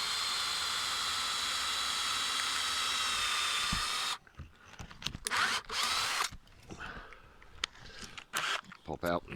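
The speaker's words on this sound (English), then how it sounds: "Just pre-drill the hole." A power drill whines steadily for about four seconds while pre-drilling a hole in wood, loud and close outdoors, then cuts off, followed by scattered handling clatter and rustling.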